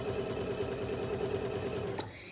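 Sewing machine stitching a quarter-inch seam on a quilt block, a fast steady mechanical whir with a rapid needle rhythm, ending in a sharp click as it stops.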